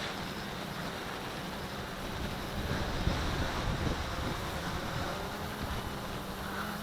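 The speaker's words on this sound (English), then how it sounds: "It's windy as hell up here" Strong wind buffets the microphone in a continuous broadband roar, swelling slightly midway, with no voices.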